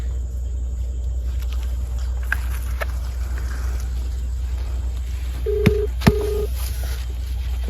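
A phone is dialed, giving two short beeping tones close together near the end over a steady low vehicle rumble.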